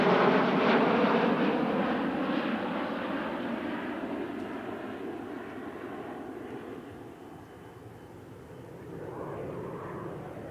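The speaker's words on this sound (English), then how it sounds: "After several formation passes, the Sabre and MiG performed an energetic Korean War tailchase." Sabre and MiG swept-wing jet fighters roar past in formation at an airshow, a loud, broad jet rumble that fades gradually as they pull away, then swells slightly again near the end.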